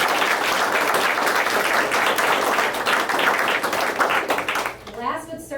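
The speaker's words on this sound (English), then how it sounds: "So just a round of applause for Mark and Kristen." Audience applause at an open house and ribbon cutting, a loud steady round of clapping that fades near the end as a voice begins speaking.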